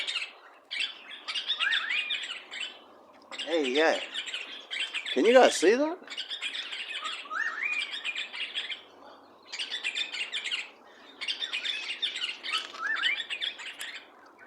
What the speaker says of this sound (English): Oh, look at that birdie, eh? It's red.